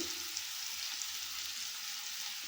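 Eggplant pieces fry steadily in a pan for an eggplant and potato curry, giving a soft, even sizzle that holds without a break at a low level, with nobody talking.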